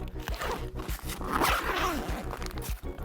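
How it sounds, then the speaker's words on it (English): A zipper is drawn closed up close, a gritty scraping rasp running continuously for a few seconds with some rustling. "I'm gonna close this zipper since it's sitting here"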